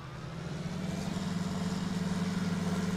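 A John Deere 8030 tractor idles in Farming Simulator 19, a steady low diesel rumble with a rhythmic pulsing throb and a droning fan, constant and close with no talk.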